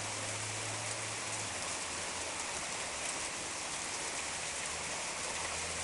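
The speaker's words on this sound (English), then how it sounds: "We definitely have hail here." Small hail from a sudden storm falls in a dense, steady, hissing patter that continues without a break, with no voices.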